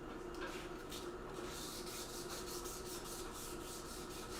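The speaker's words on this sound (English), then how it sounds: "Again, I'm just sanding it very lightly." Light hand sanding of metal at a forge workshop, a steady soft scratching rub with faint rhythmic strokes, close and continuous with no talk.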